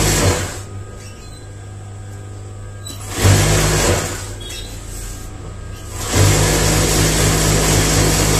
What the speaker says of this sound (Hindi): इस तरह से हमने इस पे सिलाई लगा ली है।